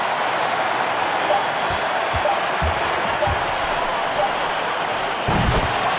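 A basketball home crowd in the College Hoops 2K21 game cheering a victory, a dense continuous roar with a few thumping bounces, steady and loud throughout.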